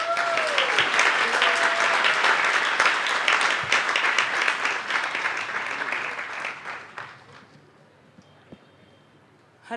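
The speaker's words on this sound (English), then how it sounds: "Please give her a big round of applause" Warm applause from a temple congregation at an ISKCON Sunday feast, dense clapping for about six seconds that thins and fades into near quiet, with a brief noise at the very end.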